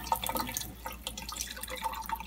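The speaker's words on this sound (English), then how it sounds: "let the water flow for a little bit" Water running from a water ionizer faucet into a cup holding a tea bag, a steady close trickling and dripping flow at moderate volume.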